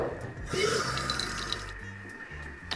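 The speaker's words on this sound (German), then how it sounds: "Ich setze jetzt hier schon mal Wasser auf." Tap water runs into a pot in a home kitchen, to be boiled for fresh spätzle. A steady soft rush goes on for a few seconds, with light clinks and a low hum underneath.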